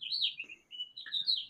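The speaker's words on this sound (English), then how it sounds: "Can you guys hear the birds chirping" A bird perched close overhead gives bright, high chirps and warbling tweets in two loud bursts separated by a short pause, with no talk.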